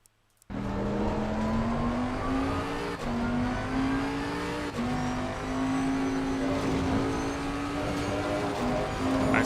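A 2020 Bentley GT3 race car laps Misano in Assetto Corsa Competizione, its engine roaring loud and close, climbing through the gears with brief dips at each upshift and occasional tire noise.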